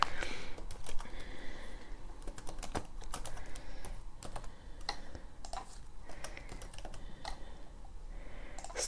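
Rapid typing on a computer keyboard sounds close and clicky, in uneven bursts of keystrokes with brief pauses between them.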